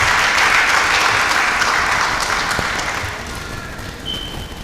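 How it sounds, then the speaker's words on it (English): Sustained applause from a business summit audience, loud and dense at first, then gradually thinning and fading over a few seconds with scattered claps near the end. "So I think we deserve a round of applause from you."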